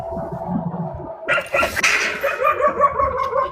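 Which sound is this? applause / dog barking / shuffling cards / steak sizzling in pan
dog barking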